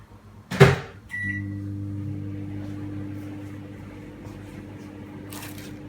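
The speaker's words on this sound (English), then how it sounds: "first I'm going to melt this peanut butter chocolate in the microwave" A microwave oven runs to melt peanut butter chocolate: a door thump and beep, then a steady low electric hum that drones on to the end, with another faint click and beep near the finish.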